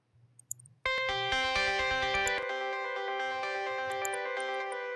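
A sustained, bright synth chord layer swells in after a brief quiet intro, thick with distortion, delay, reverb and heavy multiband compression, ringing on loudly without voices.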